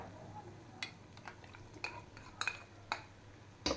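A spoon scrapes and clinks against a pan while masala with red chili powder and salt is stirred and fried, sharp metallic taps arriving irregularly over a faint background hiss, with no voices.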